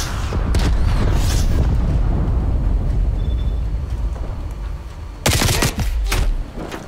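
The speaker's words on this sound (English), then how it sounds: "Enemy cruise missile launch detected." A cruise missile strike in Call of Duty Cold War multiplayer: dense rumbling blasts and crackling impacts roll on continuously, then a fresh burst of loud explosions hits near the end.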